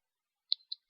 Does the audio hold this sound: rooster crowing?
no